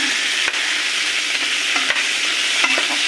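Tomatoes and sardines fry in an uncovered pan, a dense steady sizzle with a few soft scraping stirs and small pops throughout.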